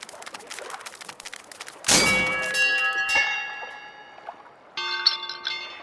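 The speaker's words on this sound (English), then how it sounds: "Please ring the bell for the ferry to the island" A ferry bell is struck at a pier in the video game Living Legends: Voice of the Sea, giving a loud metallic clang with long ringing tones, followed by a second fainter strike and a brighter ding that fade out over ambient background.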